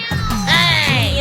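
A cat gives a drawn-out, wavering meow lasting about a second, loud and close, with no talking over it.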